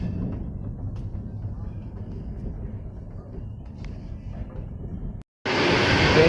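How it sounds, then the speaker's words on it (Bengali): A train races along at about 130 km/h on a Rajasthan route near Ajmer: a steady low rumble and rattle, then a brief dropout before a louder, brighter rushing roar. "ট্রেন পুরো দুরন্ত গতিতে ছুটে চলেছে, পুরো একদম 130 কিলোমিটার পার আওয়ারের মধ্যে।"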